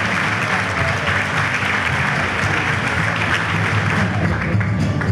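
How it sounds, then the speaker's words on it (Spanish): Audience applause at a 25th-anniversary ceremony for the IDO institute with plaques and mementos, steady sustained clapping from a large crowd filling the room at an even, fairly loud level throughout. "Merece una renovación el aplauso"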